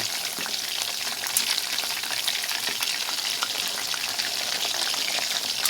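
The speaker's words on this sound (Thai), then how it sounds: "ทอดไฟปานกลางค่ะ ใจเย็นๆทอดประมาณยี่สิบนาทีนะคะ" Chicken drumsticks deep frying in oil over medium heat, giving a continuous, close crackling sizzle with scattered pops and no voices.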